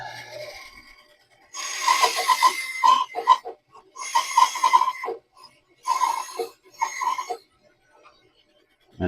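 A workpiece is trimmed down in a workshop, with several harsh rasping bursts of cutting, each a second or so long, broken by short gaps and ending in quiet.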